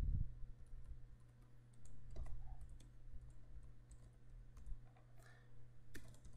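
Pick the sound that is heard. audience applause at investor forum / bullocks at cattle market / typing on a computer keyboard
typing on a computer keyboard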